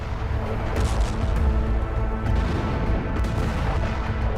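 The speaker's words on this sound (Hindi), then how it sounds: "एक के बाद एक कई धमाके देखे गए।" A dense, continuous rumble of distant bombing explosions, booms and blasts rolls on without pause, heavy and low, with no one speaking.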